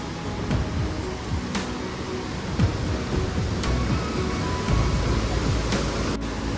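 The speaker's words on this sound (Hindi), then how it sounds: "और ये रहा नीनाई वाटरफॉल" The Ninai waterfall near Dediapada pours in a steady, broad rushing roar of falling water, continuous and moderately loud, with a few faint knocks over it and no voices.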